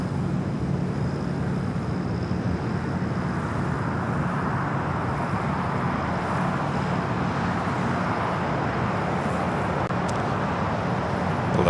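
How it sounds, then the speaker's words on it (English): A Lufthansa Boeing 787 Dreamliner in 100-year anniversary livery touches down on runway 25 left at LAX. It comes through as a steady, broad roar that holds evenly from start to finish, with no voices. "The Lufthansa 100-year anniversary Dreamliner touching down at 25 left."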